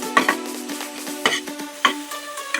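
Fenugreek leaves stirred and sautéed in a pan: about five distinct, ringing spatula scrapes against the pan at irregular intervals over a quiet background, with a faint sizzle.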